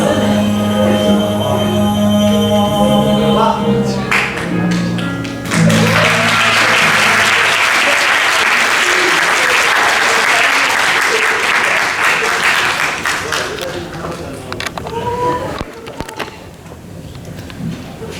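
Congregation applause at a worship service, swelling loudly after the closing notes of a song and holding as a thick, sustained roar of clapping before gradually thinning out.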